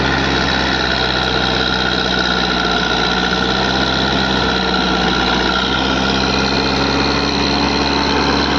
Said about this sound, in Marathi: साठ टनापर्यंत क्रेन उघडत आहे आता